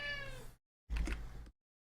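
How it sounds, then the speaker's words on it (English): A pet cat meows twice in the background of a room, two separate drawn-out calls with a short pause between them, moderately loud and with no talking over them. "Sorry if you hear my cat in the background there."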